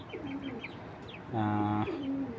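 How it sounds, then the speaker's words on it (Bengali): Young Belgian racing pigeon of Kittel bloodline, a soft bubbling coo rising into a louder, drawn-out throaty call midway, close and alone with faint chirps around it. "এটা হলো বেলজিয়াম কবুতরের বাচ্চা"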